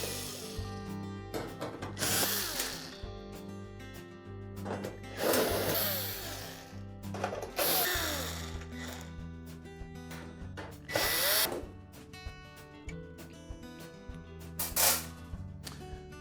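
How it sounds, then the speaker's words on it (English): Power drill backing out screws from the upper panel of a GE range oven, with several whirring bursts of varying length separated by pauses and handling noise, close and loud over a steady background hum. "there's typically about 8 screws that secure it to the frame of the oven. So we'll just go ahead and remove those."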